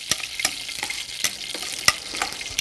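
Veal and a gob of butter frying in a pan, a steady crackling sizzle broken by sharp spattering pops and occasional stirring scrapes, close and fairly loud with no talking.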